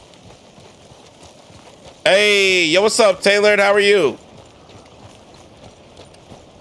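A horse trots steadily along in Red Dead Redemption, its faint, rhythmic hoofbeats running under the game's background sounds while someone speaks briefly over them.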